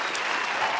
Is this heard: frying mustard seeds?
no